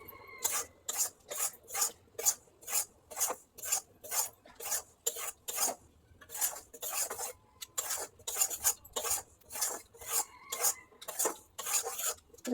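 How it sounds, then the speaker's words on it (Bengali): Rice flour is dry-roasted in a pan with a steady, rhythmic rasping scrape: about twenty quick, evenly spaced strokes, close and fairly quiet, with no voices. "আমি চালের গুঁড়োটা ভেজে নিই"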